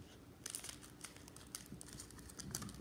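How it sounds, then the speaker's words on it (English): Scissors snip open a foil Pokémon card pack, quiet crinkly bursts of cutting and crackling wrapper repeating close up with no talking. "I'm gonna cut this first pack open."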